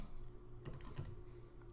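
Brief burst of typing on a computer keyboard, a few soft close key taps over quiet room tone.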